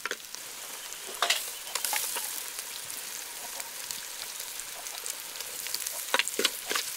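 Tomatoes fry with turmeric and fennel seeds for an Andhra-style gongura mutton curry, giving a steady close sizzle with scattered pops and the scrape of stirring, and no talk.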